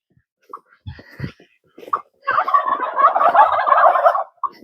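Ducks and geese at a winter pond give scattered honks and calls up close, then one bird breaks into a longer, loud run of gabbling cackles before a final short call.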